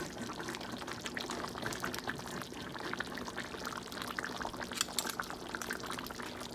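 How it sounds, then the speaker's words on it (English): Water pours steadily into a pot of Haitian stew for several seconds, a splashing, gurgling stream close by, with no talking. "I'm gonna put some water in it."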